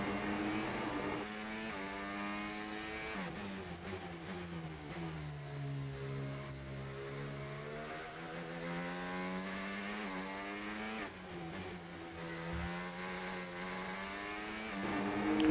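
An Indy car drifting through corners in the F1 25 racing game, its engine drone rising and falling steadily with pitch sweeps as it slides, loud and continuous with no talk.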